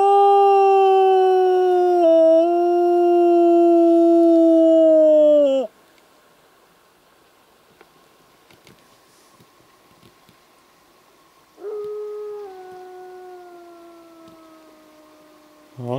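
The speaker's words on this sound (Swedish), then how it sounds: "Det är varg just nu." Wolves call from behind a camp in the Alaskan wilderness: a long, sustained howl of about five seconds, a quiet gap, then a second howl rising again, loud and near with no talk.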